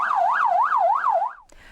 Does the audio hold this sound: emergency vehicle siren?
yes